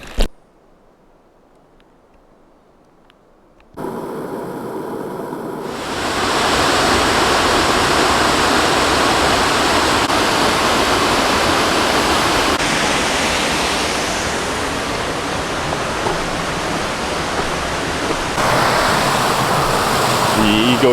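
Steady broadband rush of Eagle Creek flowing in Oregon, loud and continuous, rising after a quiet start and holding evenly to the end.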